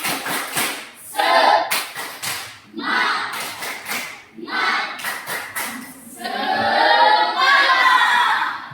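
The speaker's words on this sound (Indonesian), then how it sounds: "kita mulai dengan tepuk semangat" A classroom of students doing the tepuk semangat clap routine, bursts of rhythmic group clapping in short patterned phrases, separated by brief pauses and chanted voices, with a longer sustained stretch near the end.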